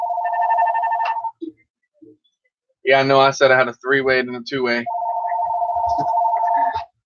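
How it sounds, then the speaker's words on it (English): A telephone ringer sounds loudly in steady tonal bursts, ringing before and after a short stretch of nearby conversation during a casual drone hobby talk. "Sorry about that phone, guys."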